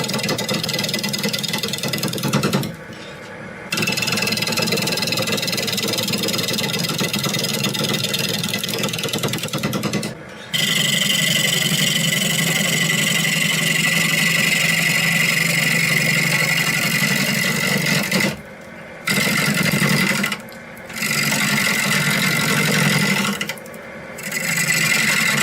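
A piece of sea grape wood spins on a lathe while a shopmade hollowing tool rasps and scrapes against it over a constant motor drone. The cutting cuts out several times for brief pauses and then starts again.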